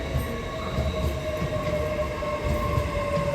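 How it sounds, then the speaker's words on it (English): Class 801 train on a service from Edinburgh Waverley pulling into Durham station, a steady loud rumble of wheels on rail with a sustained high metallic squeal throughout. "Next service arriving is a linear service after Edinburgh Waverley, 801212"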